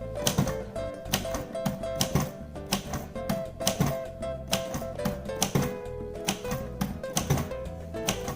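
A red Royal Custom manual typewriter types a series of capital and lowercase letters: crisp, irregular key strikes with clacks and shift thunks, close and clear, continuing throughout without talk.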